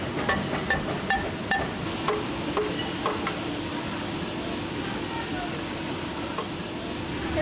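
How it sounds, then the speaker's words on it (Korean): A hammer pounds glued leather in a busy Bangladesh leather factory, with a run of sharp, evenly spaced taps early on that thin out, over steady workshop clatter and murmuring voices. "일일이 손으로 접착제를 칠하고 잘 붙도록 망치로 두드린다"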